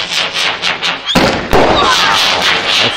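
New Year's fireworks burst in quick crackling pops, then two sharp loud bangs followed by sizzling crackle, close and loud outdoors.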